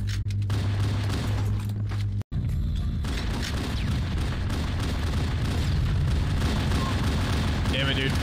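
Rocket explosion in Halo CE on PC, a sharp blast that cuts out briefly around two seconds, set amid continuous loud gunfire and booming chaos throughout, with a voice talking over it.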